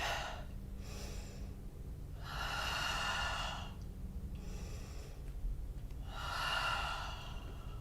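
Slow, deep breaths during a yoga class: three long airy exhales, each a few seconds, separated by quieter pauses, close and soft with no speech.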